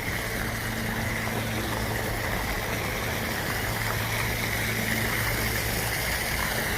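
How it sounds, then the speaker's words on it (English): Continuous rushing water at a resort pool area with a waterslide and jacuzzi, a steady broadband wash with a faint low hum underneath, even and unbroken. "Water flowing."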